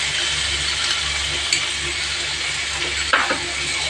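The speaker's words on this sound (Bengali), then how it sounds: "এখানে নারকেল" Coconut fries with tomato in a pan, a continuous close hissing sizzle with a few sharp clinks of a utensil against the pan.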